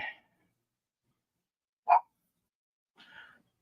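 Three short, faint puppy whimpers spaced apart, separated by silence, with one slightly louder squeak in the middle.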